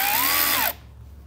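A power tool tightening a bolt whirs briefly, its pitch rising then dropping before it cuts off abruptly, leaving quiet room noise.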